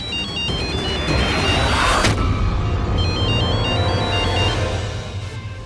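A phone ringtone plays a repeating electronic melody over background music, with a sharp bang partway through.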